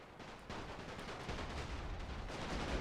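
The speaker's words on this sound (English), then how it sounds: "Howitzers still firing." Howitzer artillery and rifle fire in The Great War: Total War WW1 mod battle, a faint, dense rolling crackle of distant shots and booms running continuously without pause.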